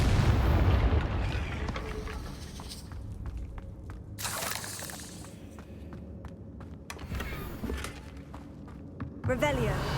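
Confringo fire spells blasting in Hogwarts Legacy: a few sudden booming bursts break through ongoing game noise and footsteps, with a voice speaking over them.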